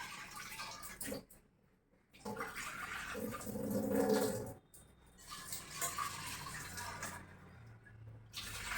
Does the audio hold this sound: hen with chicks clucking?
no